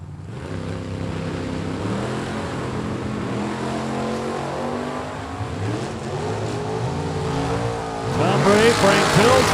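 Drag race between a Chevrolet Nova and a Camaro: loud, continuous engine roar with rising and falling revs, a sharper high-pitched whine near the end, heard under a public-address announcer's voice.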